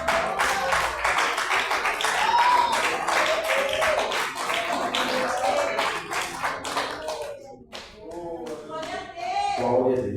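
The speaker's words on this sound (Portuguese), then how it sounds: "Pode se aceitar e louvar o Senhor com as palmas" Church congregation clapping hands in praise during a worship service, dense rhythmic claps mixed with voices throughout, with a brief dip in the middle before the clapping surges again.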